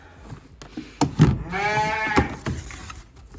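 Lambs bleat on a small farm, a wavering drawn-out bleat in the middle with shorter calls and thumps around it, fairly close and with no talking.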